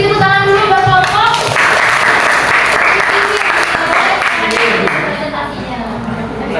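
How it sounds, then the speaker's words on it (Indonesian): Students in a classroom clap for a student group's presentation, a loud, sustained round of applause that swells after a voice at the start and fades slightly toward the end, with talking mixed in. "beri tepuk tangan dulu buat kelompok"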